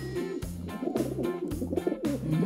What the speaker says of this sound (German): Taube, flieg weg.